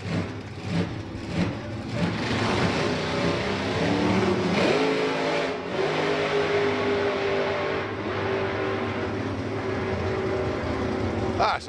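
Methanol-burning altered drag racer launching and accelerating down the strip at Santa Pod, a loud raw engine roar held steady for seconds amid crowd and track ambience, with commentary underneath.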